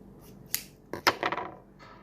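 Scissors snipping through a fabric sock while an elephant sock doll is being made, a few short crisp cuts close by in a quiet room.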